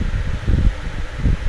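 Strong gusts of wind roar past under dark, stormy clouds, a steady low rushing with swelling surges and no voices.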